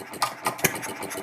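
A small water-cooled model hit-and-miss engine runs with sharp, evenly spaced firing bangs about a quarter second apart over a steady mechanical clatter, close and fairly loud.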